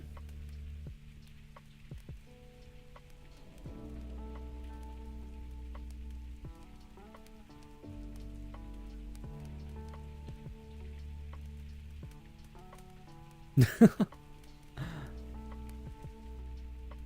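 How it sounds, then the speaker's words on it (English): Steady rain patters outside in the background on a cozy evening with a crackling fire, a soft continuous hiss broken by a couple of louder knocks near the end, with no talking. "you can listen to the rain in the background"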